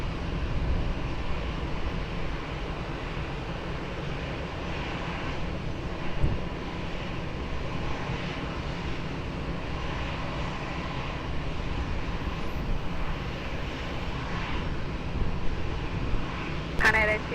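An airplane lands on runway 20 at Lisbon Airport, a steady, spread-out engine rumble holding throughout with slight swells, while voices talk over it.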